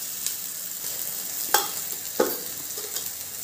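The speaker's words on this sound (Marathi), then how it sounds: "बस फक्त 2 मिनिट परतून घ्यायचे तेल सुटेपर्यंत." Turmeric and coriander powder fry in hot oil, a constant bright sizzle with a couple of sharp stirring clicks, close and steady with no talking.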